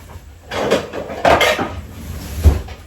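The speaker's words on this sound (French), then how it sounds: "je vais mettre un couvercle" A lid is set onto a pan while an omelette cooks, giving a few clanking metal-on-metal knocks spread over a few seconds, close and fairly loud in a quiet kitchen.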